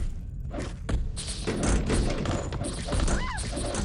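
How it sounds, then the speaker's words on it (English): A cat paws and bats around inside an empty cardboard microphone box indoors, making close scratchy rustling with scattered soft thumps and knocks throughout, no voices. "That's just my cat messing around with the box."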